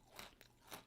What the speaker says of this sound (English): I heard that crunch